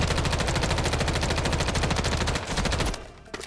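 Automatic weapon in Call of Duty Warzone fires one long, steady, rapid burst, loud and close, that cuts off near the end and leaves a brief quiet tail.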